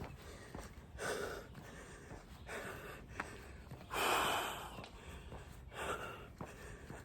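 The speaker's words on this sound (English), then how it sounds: "get my breathing under control" Heavy, labored breathing of a hiker climbing a mountain, a series of loud gasping inhales and exhales at uneven intervals, close to the microphone with outdoor background noise.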